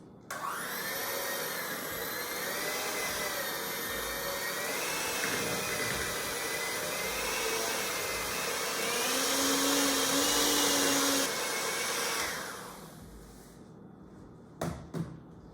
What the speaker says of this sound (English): turn on your beater and beat the cream cheese until it is whipping